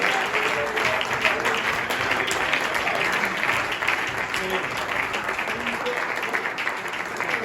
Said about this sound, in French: Give the Lord a hand praise right now.